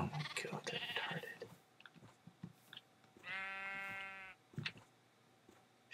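Sheep in Minecraft bleat in a clear, drawn-out tone after a patch of scattered clicks and crunchy chewing-like game sounds, close and moderately loud with no talking.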